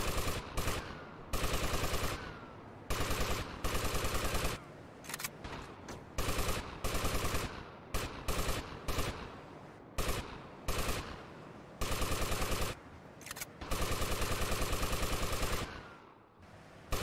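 Gunfire from the video game GTA Vice City: loud, rapid machine-gun bursts repeat in dense volleys separated by short gaps over about seventeen seconds.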